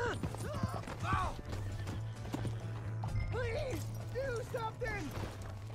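Horse hooves clip-clopping in Red Dead Redemption 2, a steady rhythmic gallop under a low engine-like hum, with a horse neighing and whinnying several times and people talking over it.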